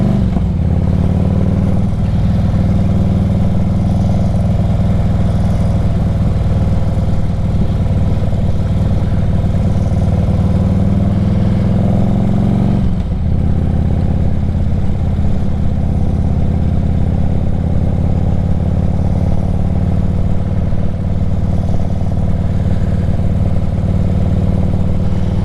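Motorcycle engine running steadily close by, a loud continuous low rumble with a slight shift in tone about halfway through, no voices over it.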